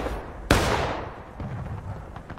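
A single musket shot cracks out in the American Civil War multiplayer game War of Rights, a sharp loud report followed by a decaying rumble, with faint distant shots and low ambient noise after.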